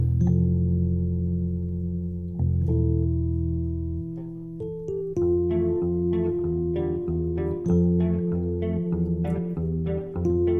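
Instrumental music with a sustained deep bass line and layered synth tones, later joined by plucked, rhythmic notes, with intentional dissonance; no voices.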